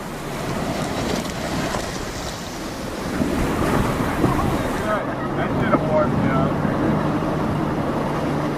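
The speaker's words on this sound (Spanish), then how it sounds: "Los rápidos de la Upper Granite Gorge, uno de los más peligrosos del cañón." Rushing whitewater of Colorado River rapids in Upper Granite Gorge roars steadily with heavy wind buffeting the microphone, a boat among the churning water, loud and close throughout.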